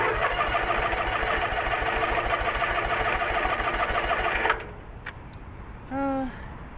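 A Cub Cadet 1862 garden tractor engine runs with a loud, steady rapid chugging for about four and a half seconds, then cuts out abruptly, leaving a few faint clicks and a short tonal squeal near the end.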